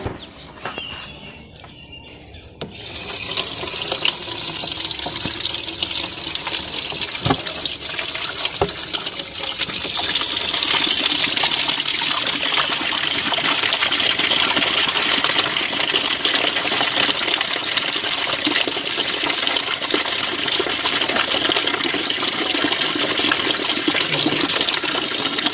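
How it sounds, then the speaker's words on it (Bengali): Water pours from a pipe into the tank of a homemade air cooler in a steady, rushing, splashing gush that starts after a few seconds and keeps running loud and close for the rest of the clip. "এই পাইপটাকে আমি চালু করে দিয়ে এটা লোডটা করে নিই জলটা।"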